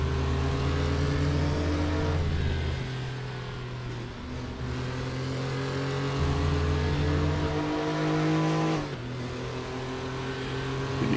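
Porsche 911 Carrera Cup 964 race cars at Laguna Seca roar continuously, engines rising and dropping through gear changes with sustained loud revving, several cars blending together.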